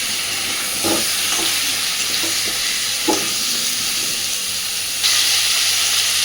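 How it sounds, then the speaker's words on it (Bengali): Pumpkin and potato frying in a pan with salt and turmeric, a constant loud hiss of sizzling oil with a few stirring knocks and scrapes and no voices. "লবণ হলুদটাকে দিয়ে মিনিট 2-3 খুব ভালোভাবে কুমড়ো আর আলুটা ভেজে নেব"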